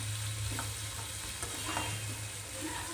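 Onions sautéing in a pan for a Tamil spinach stir-fry, a soft continuous sizzle with faint stirring scrapes and a low steady hum underneath.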